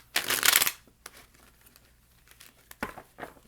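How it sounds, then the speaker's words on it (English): Tarot cards shuffled by hand, a loud crisp riffle burst at the start followed by scattered softer slides, taps and flutters of the deck, close and dry with no talking. "the cards are shuffling weird"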